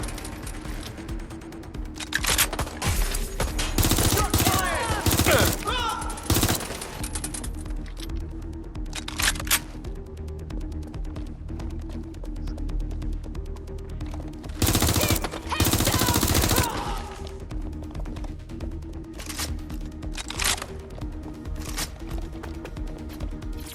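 Bursts of automatic gunfire and single shots from the video game Watch Dogs: Legion rattle loudly in irregular volleys, broken by short quieter gaps.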